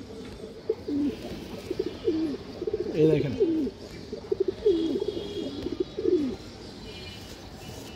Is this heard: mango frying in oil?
no